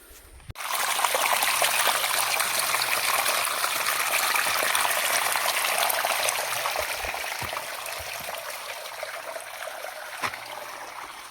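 Continuous trickling and gushing hot spring water flowing from its source at Unhavare, a steady bubbling stream with a few soft knocks, no voices.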